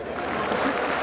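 Audience at a Hindi comic poetry gathering clapping steadily, a dense continuous wash of applause filling the whole moment.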